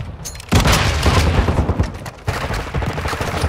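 Loud grenade explosion with a rumbling boom and crackling debris in Call of Duty: Modern Warfare 2 online multiplayer, followed by a second burst amid game noise.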